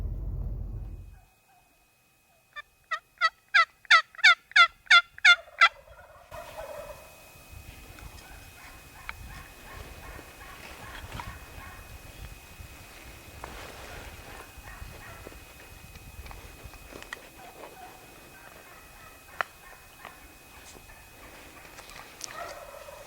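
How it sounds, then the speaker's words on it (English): Wild turkeys gobble in the Colorado spring woods at gobbling time: one nearby bird gives a loud rapid rattling gobble run, followed by fainter distant gobbles and hen calls over quiet rustling. "the hens are going and gobblers are going. I actually have one answer me already."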